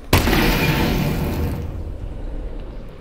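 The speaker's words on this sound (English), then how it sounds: "Explosion?" An in-game explosion in the VR title Half-Life: Alyx: one sudden loud boom that rolls into a long, fading rumble over about three seconds.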